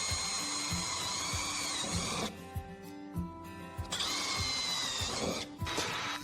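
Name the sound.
drilling holes in Volkswagen Caddy rear door plate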